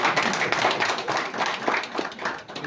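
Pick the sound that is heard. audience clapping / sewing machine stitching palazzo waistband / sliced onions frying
audience clapping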